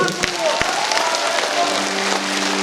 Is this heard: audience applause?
yes